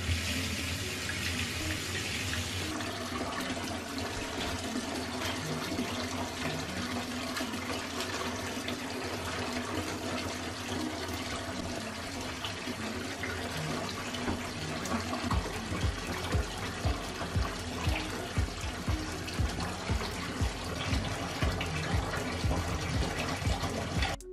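Dusty Xbox 360 plastic pieces and fans are washed in warm water, with a steady tap gushing into a sink, then rhythmic sloshing and splashing as parts are scrubbed, close and continuous.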